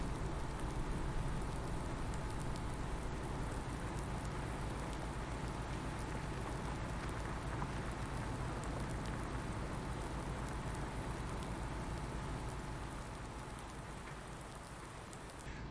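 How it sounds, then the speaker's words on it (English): Rain falling in Farming Simulator 19: a dense, even patter of steady rainfall that holds for the whole stretch and eases slightly toward the end, with no voices. "once this rain stops falling"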